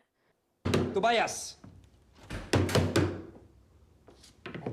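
Someone bangs on a locked door, heavy thumping blows landing in a quick cluster amid loud shouting, with a few more knocks trailing off after a pause.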